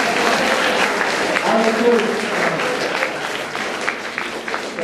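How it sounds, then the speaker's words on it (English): Students at a career workshop in Kannur applaud, a continuous, fairly loud crowd clapping with a brief spoken remark heard over it. "Give them a big clap."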